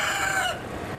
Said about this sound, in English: Seems like only the chickens will be staying.